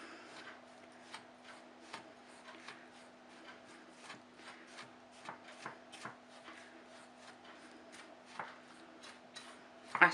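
Cheesecake base being mixed with melted butter: soft, quiet scraping and tapping repeats steadily, with faint crumbly rubbing throughout and a slightly louder knock at the end.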